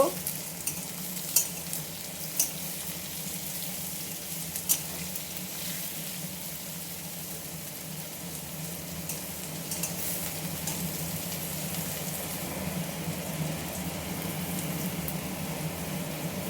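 Onion stirred and fried in a kadai after a spice tempering: a steady, close sizzle runs throughout, with a few sharp scraping clicks of the stirring spoon early on.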